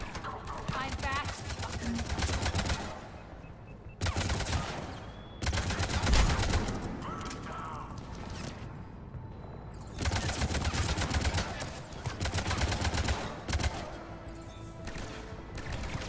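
Dense bursts of automatic gunfire from the sci-fi shooter Mass Effect 3 repeat in waves, with short pauses between volleys, loud and close, while a voice talks beneath the shooting.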